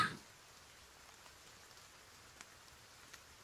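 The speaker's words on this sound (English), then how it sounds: "This rain falls very peaceful." Rain falling on a quiet morning, a faint, steady soft hiss with a few scattered drop taps, no voices.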